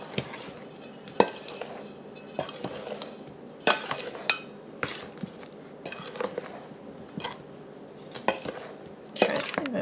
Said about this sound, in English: I'm going to stir up my dry ingredients before I add my wet.